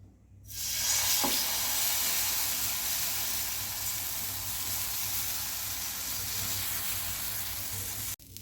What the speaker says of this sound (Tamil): இந்த அளவுக்கு நல்லா சாஃப்டாக வந்திருக்கு வேறு ஒன்று ஊற்றிக்கலாம்